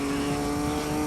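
A race car in Gran Turismo 2 idles at low revs with a steady buzzing engine drone and a faint rattle, heard alone and briefly, during the Apricot Hill 200 km race.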